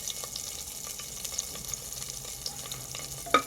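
Cinnamon, cloves, cardamom, star anise, marathi moggu and a bay leaf fry in oil for tempering, giving a soft, steady sizzle and crackle with a few faint sharp pops, quiet and without speech.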